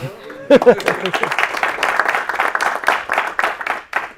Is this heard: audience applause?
yes